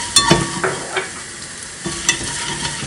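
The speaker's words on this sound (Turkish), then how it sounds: "Salçamı da biraz kavuracağım." Tomato paste sizzles and fries in a pan while a spoon stirs it, giving a steady close hiss with a few scraping strokes and no voices.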